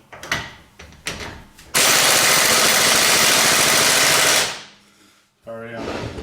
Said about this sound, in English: I've got my old impact wrench on full setting. And we're going to try this wheel again.